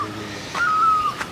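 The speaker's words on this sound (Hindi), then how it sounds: "जंगल से देखो भाई न्यूली पक्षी की आवाज़ आ रही है" A bird calling from a hill forest during heavy rain, a single clear, sustained whistled note, fairly loud over a steady hiss of rain.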